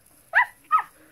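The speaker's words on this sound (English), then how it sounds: "So, is he a dog?" Two short barks from a dog in the Minecraft video game, clean and close, each a brief separate yelp with a quiet gap between, against near silence.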